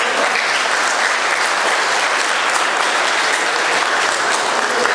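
Dense, sustained applause from the audience at a poetry mushaira in Sharjah, a loud continuous wash of many hands clapping without pause for the full stretch.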